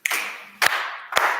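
A music class claps in unison, three sharp, evenly spaced group claps about half a second apart, close and clear with a short ring after each.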